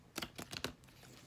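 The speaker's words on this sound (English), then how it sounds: "I'm going to attempt one shuffle on camera" A deck of cards shuffled once, a quick run of crisp riffling snaps in about half a second, close and quiet, with no talking.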